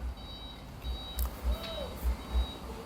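Concrete truck arriving at a house build site in Thailand, its reversing alarm giving evenly spaced beeps over the low rumble of the engine, moderately near, with no talk.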